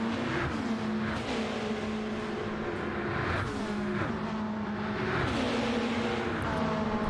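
A touring car in a racing game accelerates hard out of a corner onto a long back straight, a loud engine roar climbing through gear changes alongside other cars nearby.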